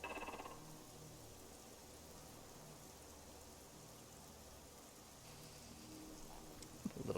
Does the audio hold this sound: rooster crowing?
no